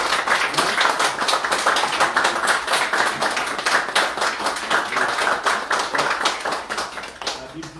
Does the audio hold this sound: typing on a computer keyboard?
no